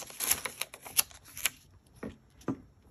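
Paper being torn by hand for a hot air balloon themed planner spread, a close, crisp ripping with sharp snaps and rustling that slows to a few separate tears.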